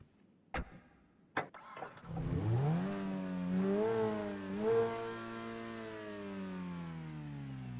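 A car in GTA 5 clicks, then its starter catches and the engine fires up, revving twice with rising and falling pitch before settling into a steady, smooth idle, close and clear.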